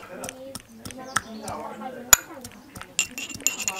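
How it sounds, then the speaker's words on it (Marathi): Garlic being pounded in a kitchen, a series of sharp, close knocks with a clinking edge, irregularly spaced, with faint background activity between strikes. "आपण लसूण कुटून घेऊया"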